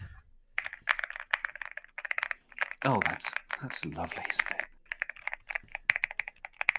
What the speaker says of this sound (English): what keyboard can I hear you using? I'm just going to click on the type thing